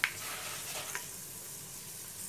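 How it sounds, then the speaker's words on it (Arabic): Food fries in a hot pan with a soft, steady sizzle and a faint tap at the start, quiet and close. "بصوا الطاسة عشان سخنة اتعمل بسرعة ازاي"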